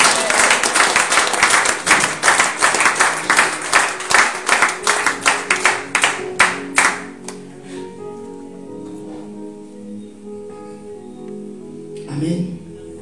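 A church congregation at a Friday worship service breaks into loud, fast rhythmic clapping with some cheering for several seconds. It then thins to scattered claps, leaving a sustained organ or keyboard chord beneath.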